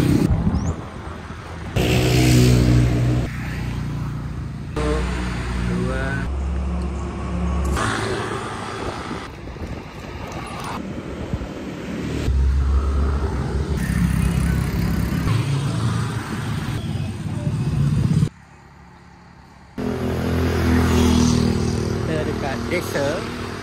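Many motorcycles ride the road toward Bromo in East Java, their engines droning and rumbling steadily up close beneath people talking, broken by a few abrupt cuts.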